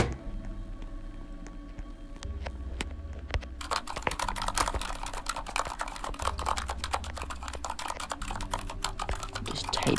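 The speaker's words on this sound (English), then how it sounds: "Just typing away." Rapid, continuous clatter of keys on a computer keyboard during a Roblox game session, close and fairly quiet, with a brief lull early on before the typing grows busier.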